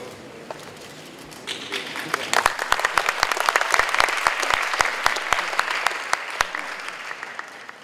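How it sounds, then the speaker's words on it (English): A conference audience at the Indonesia FEALAC Youth Conference 2015 breaks into a round of applause that swells from quiet to full clapping, with sharp individual claps standing out before it tapers off. "Give a round of applause for the representative of the delegate of Indonesia Paralympic Conference"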